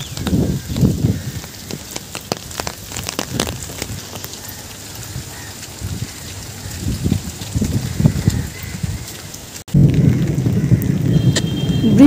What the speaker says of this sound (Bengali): বৃষ্টিটা যেন আরো জোরে নামলো।